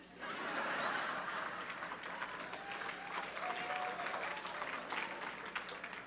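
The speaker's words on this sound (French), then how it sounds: "Pour nos amis qui se demandent pourquoi le pasteur se fait applaudir" A congregation applauds its pastor at a Haitian gathering, sustained moderate clapping with a few chuckles and murmurs mixed in, heard from within the room.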